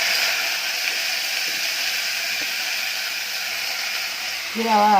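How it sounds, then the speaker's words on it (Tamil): Spices, salt, onions and shallots are tempered in hot oil for beetroot greens, giving a steady, even sizzling hiss throughout, with a brief rising tonal squeal near the end. "மசாலா, உப்பு, வெங்காயம், நாட்டு வெங்காயம் எல்லாம் போட்டு தாளித்து ஊற்ற போகிறேன்"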